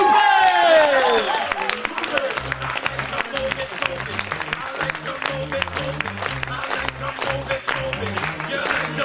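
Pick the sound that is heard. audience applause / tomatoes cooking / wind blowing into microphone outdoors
audience applause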